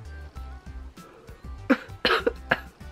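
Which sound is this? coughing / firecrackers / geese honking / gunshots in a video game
coughing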